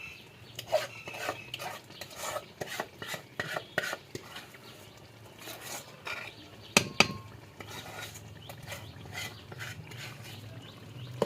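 A spoon scrapes and clinks repeatedly against a pan as spices are stirred into frying onion, tomato and garlic, a quick irregular rhythm of metallic scraping over a low sizzle, close by and without talk.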